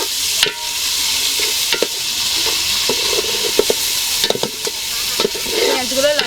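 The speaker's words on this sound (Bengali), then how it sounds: "পেঁয়াজগুলো লাল লাল করে ভেজে নেব।" Onions frying in hot oil with a bay leaf, a loud, steady sizzle close up, broken by repeated scraping and stirring strokes of a spatula in the pan.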